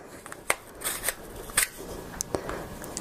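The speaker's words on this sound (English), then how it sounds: "Let's go ahead and try out, kind of like the pocket knife here." Pocket knife blade scratching and scraping across an HTC One M8 phone, heard as a handful of sharp, close clicks and gritty scrapes in irregular strokes over a low background hum.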